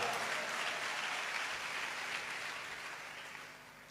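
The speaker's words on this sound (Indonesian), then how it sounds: "Tepuk tangannya meriah." Applause from a church congregation at an evening worship service, a dense continuous wash of clapping that fills the room and slowly fades toward the end.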